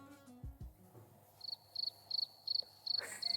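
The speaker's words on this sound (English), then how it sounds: "I'm going to add a cricket sound to this edit" A cricket sound effect chirps in steady short pulses, clear and isolated against near silence after a couple of soft thumps.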